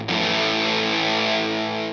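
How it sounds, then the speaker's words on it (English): Electric guitar fed through a modified MXR Distortion Plus pedal, on a Fender Tom DeLonge Stratocaster, sustaining one thick, saturated chord for two seconds, loud and close, slowly fading at the end. "He had a modified, as I understand it, Distortion Plus MXR pedal. Okay. And that's what you hear here."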